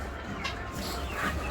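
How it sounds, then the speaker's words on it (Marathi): Chickens on a farm in Nandgaon, Panvel, clucking faintly in the background amid a low, steady rumble of ambient noise, with no clear voices. "खूप छान अशा कोंबड्या आहेत, पाहू शकता तुम्ही"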